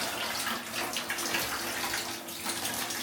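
Steady hiss of water running from a shower in a bathroom of a rented Birmingham flat, continuous and fairly close, with no voices.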